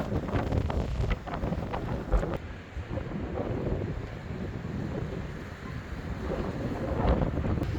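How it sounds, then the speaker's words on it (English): Strong gusts buffet the microphone on a seaside coast, a steady loud roar with rumbling bursts, while choppy waves wash beneath it without pause. "The wind is really picking up here now."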